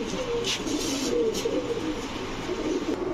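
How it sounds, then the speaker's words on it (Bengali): A pair of Kashmiri racer pigeons coo softly at close range, low rolling calls repeating over a steady background hum, with no talk. "দেখেন কাশ্মীরি রেসার কবুতর, এই দুটো হচ্ছে একটা পেয়ার।"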